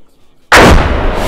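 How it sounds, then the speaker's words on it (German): After a brief quiet moment, a sudden loud artillery blast in the video game DayZ (Overpoch mod) booms and rumbles on, a single heavy explosion filling the sound. "dahinter explodiert was. Artillerieanschlag"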